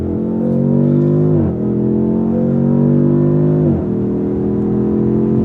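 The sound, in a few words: 2026 Dodge Charger Scat Pack twin-turbo inline-6 accelerating hard, sport mode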